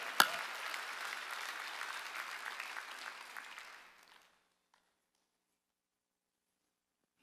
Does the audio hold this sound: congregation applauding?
yes